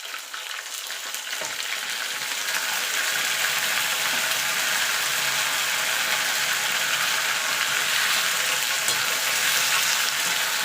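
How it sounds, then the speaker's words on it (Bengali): Tomatoes, green chilli and ginger paste fry in spiced masala for a vegetable khichdi, giving a loud, continuous hissing sizzle that swells after an opening moment and holds steady throughout, with no voices. "এখানে দিয়ে দেবো ছোটো মিডিয়াম সাইজের দুটো টমেটো এখানে দিয়ে দেবো কাঁচা লঙ্কা আর আদা বাটা"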